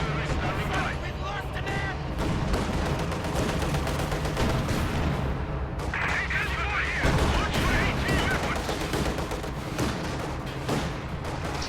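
Stuka rocket artillery fires a barrage in a war strategy game, a dense, continuous stretch of gunfire, booms and explosions heard under a commentator's voice.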